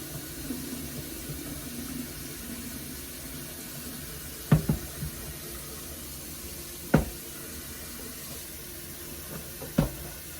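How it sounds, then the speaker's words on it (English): Liquid pours down a kitchen sink drain on the garbage-disposal side, a soft, steady watery rush with a few faint clunks, heard alone without talk. "I am going to take this and pour down, right down the drain"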